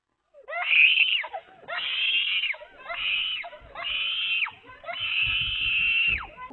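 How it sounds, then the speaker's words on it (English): A girl screaming as a raccoon bites her leg: five long, high-pitched shrieks in a row, loud and close, separated by brief gasping pauses. "she screams in fear and distress"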